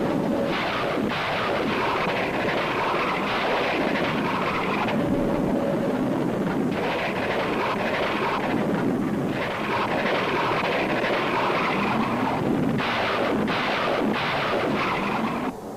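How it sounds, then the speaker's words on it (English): Zuni unguided rockets launched from pods on a Crusader naval combat aircraft make a sustained, loud roaring rumble with bursts of blast noise as they strike ground targets, with no talk over it. "The rockets have devastating impact against a variety of ground targets."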